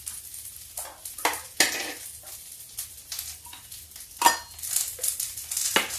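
A spoon stirs gently sizzling masala with ginger garlic paste and tomato chutney in a pan for kadhi, with irregular scraping strokes and soft frying crackle, close and fairly quiet.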